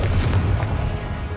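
The Confringo explosive spell goes off in Hogwarts Legacy, a loud rumbling blast with deep booming impact that rolls and fades over a second or so, with no talk.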